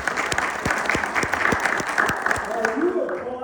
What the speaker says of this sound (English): Are you applauding because you know she manages me and she does a good job?